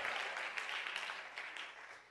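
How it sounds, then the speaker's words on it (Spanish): A church congregation gives a round of applause, a dense patter of many hands clapping at moderate distance that fades slightly toward the end. "Dele ofrenda de palmas al que vive, a su nombre."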